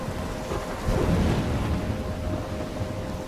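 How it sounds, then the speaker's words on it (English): Thunderstorm in the video game Life Is Strange: a continuous broad roar of rain and wind with a low rumbling swell of thunder, loud and steady with no talking. "I'm trapped in a storm?"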